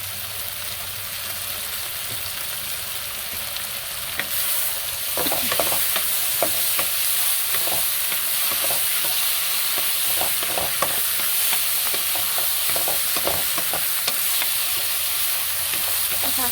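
Matsutake mushrooms stir-fried dry in a pan: a steady hissing sizzle that grows louder partway through, broken by frequent close scraping and tossing strokes, no speech.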